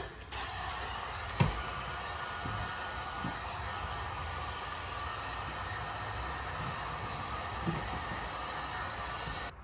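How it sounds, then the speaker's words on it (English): A heat gun blows a steady broadband hiss while warming a vinyl wrap on a Subaru WRX front panel, running continuously at a moderate level with a couple of faint knocks in the background. "Use the heat gun, try to manipulate it."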